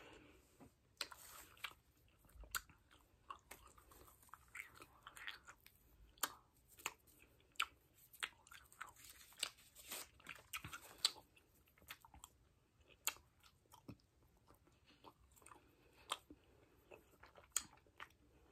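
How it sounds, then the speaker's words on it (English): Hubba Bubba bubble gum being chewed close to the mic, with wet, sticky smacks and clicks repeating irregularly over a quiet background. "My gosh, I chew it all the way up."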